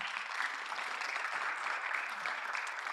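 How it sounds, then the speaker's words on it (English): Sustained applause from an assembly crowd at a medical students' general assembly award event, an even wash of many hands clapping for a few seconds without voices on top. "A round of applause for them,"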